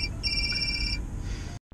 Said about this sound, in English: Just a phone call.